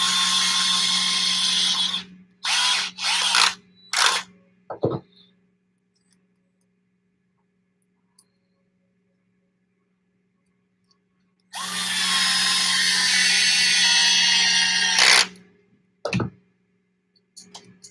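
An 8-volt electric driver whirs loudly while building an Axial RC crawler kit, in several short bursts followed by a longer continuous run, with quiet pauses between them.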